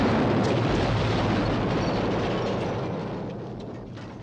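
A deep, roaring dust explosion blast rumbles continuously, broad and heavy, then slowly fades away toward the end.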